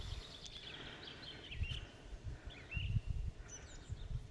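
Faint, scattered bird chirps and whistles come from a distance in a forest over a low, rustling outdoor background.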